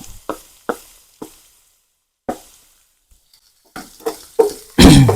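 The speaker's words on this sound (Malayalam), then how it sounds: "നമ്മൾ നേരത്തെ കട്ട് ചെയ്ത് വെച്ച ഒരു ഒന്നര സവോളയും കൂടി ഇടുവാണ്" Sliced onions drop into a hot pan for Angamali-style pork with Chinese potato, giving a few short separate sizzling bursts and clatters with pauses between, ending in a louder burst of frying.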